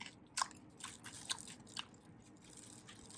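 Sharp crunchy bites of fried chicken, three or four distinct crackling crunches spaced irregularly, close to the mic with no talking.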